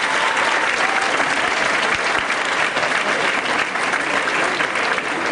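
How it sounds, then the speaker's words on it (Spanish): Strong, dense applause from a business congress audience welcoming a student presenter to the front, loud and sustained for the whole stretch with no talking over it. "a quien invitamos al frente, por favor, con un fuerte aplauso"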